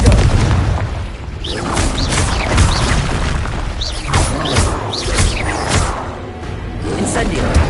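Repeated Confringo blasting-spell explosions in a PS4 game, a run of loud booms and bursts overlapping one another, with a voice shouting spell names over them.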